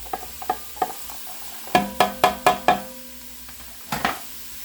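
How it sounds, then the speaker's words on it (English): Carrots are tipped into an enameled cast iron Dutch oven and stirred, making a run of loud, sharp knocks and scrapes against the pot over a soft background sizzle, followed by a couple more clunks. "We're going to dump the carrots in."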